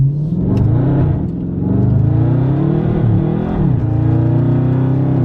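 A 2019 Dodge Charger Scat Pack accelerates hard on a rain-soaked road, its engine rising into a loud, throaty roar heard from inside.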